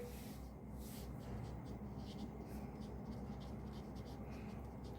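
A pen scratches out an account entry on paper, faint rhythmic strokes of writing close by, quiet and continuous with no talk over it.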